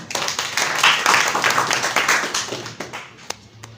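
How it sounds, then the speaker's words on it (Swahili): An audience claps at a graphic design session, a brief round of applause that builds quickly, holds for a couple of seconds, then thins out into a few scattered claps before falling quiet. "Yaani makofi."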